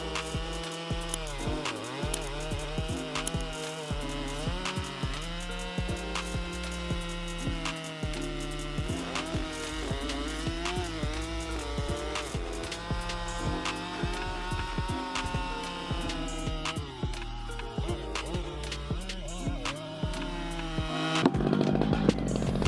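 A Stihl MS-881 chainsaw with a powerful 2-MIX engine cutting a tree during logging, a loud continuous high-revving buzz that shifts pitch under load, sustained for over twenty seconds with a rougher burst near the end.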